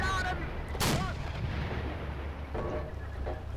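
In a Steel Fury tank battle, a KV-1 fires on a Panzer III: a heavy cannon blast booms near the start, followed by fainter distant shots and rumbling battlefield noise.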